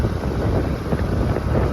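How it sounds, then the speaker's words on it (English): Steady wind buffeting the microphone on a farm field during cover crop planting, a continuous low rumbling roar with gusty swells and no voices. "Very windy today."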